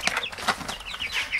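Grown chicks cluck and cheep nearby, a busy run of short chirps and clucks in irregular rhythm, with no talking.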